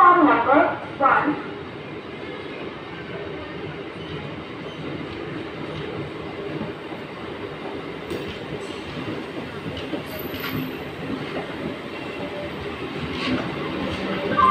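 A passenger train at Tenali Junction railway station rumbles and clatters steadily on the tracks, with a busy platform murmur underneath and a few brief louder knocks near the start.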